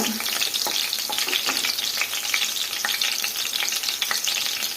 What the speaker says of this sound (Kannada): ಹೈ ಫ್ಲೇಮಲ್ಲೇ ಒಗ್ಗರಣೆ ಮಾಡ್ಕೊಳ್ಳೋಣ